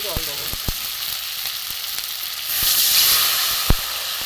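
Water is poured into hot oil with potatoes in a pan for a fish egg fritter curry, and the steady loud sizzle swells into a rushing hiss, punctuated by sharp clicks of a utensil against the pan.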